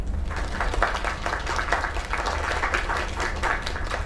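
Crowd applause in the video game Lake, loud and continuous clapping from an audience, dense and even throughout with no speech over it.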